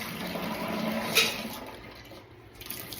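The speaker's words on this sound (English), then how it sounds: "Alright, pour the water off." Hot water that has soaked a waxed bike chain is poured off, giving a moderate liquid splashing and trickling that fades toward the end.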